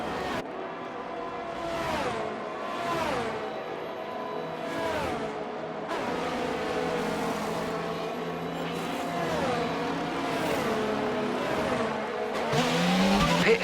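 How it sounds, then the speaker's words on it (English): Race cars in the F1 22 video game roar past during a pit stop at the Spanish Grand Prix, engines rising and falling in repeated passes at steady volume, with tyre squeal near the end. "the pit crew are out in the lane and ready to perform their magic on the car."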